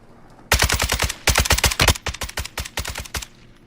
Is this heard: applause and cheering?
no